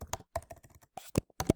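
Quick bursts of typing on a computer keyboard, close and fairly quiet, a few rapid clicks separated by short pauses, no talk.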